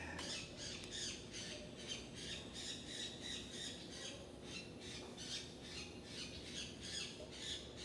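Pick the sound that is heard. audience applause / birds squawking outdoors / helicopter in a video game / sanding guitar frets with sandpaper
birds squawking outdoors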